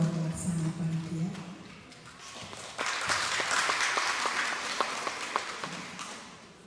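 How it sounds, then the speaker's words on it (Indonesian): An audience at the opening of a Catholic women's branch conference at Santa Familia parish, Sikumana, breaks into brisk, lively clapping after a speaker's voice, the applause holding steady and then easing off. "Mari kita berikan tepuk tangan yang sangat meriah untuk Ketua Pelaksana Panitia."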